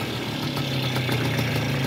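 A 1980 Mars Super Luxus moped, an automatic with a two-speed Solomatic transmission, idles in a short, steady, close low hum with a faint pulsing beat.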